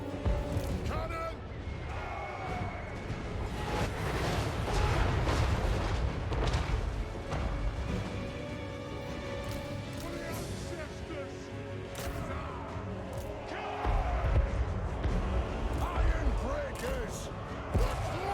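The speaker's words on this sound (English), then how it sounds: "I love it when you have this much firepower with cannons." Cannons fire in a fantasy strategy battle game with dwarf armies, heavy booming shots layered over dense continuous battle din and clashing, with voices talking throughout.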